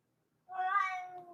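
A pet cat lets out a single clear, drawn-out meow close by in a quiet room.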